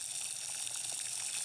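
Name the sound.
water boiling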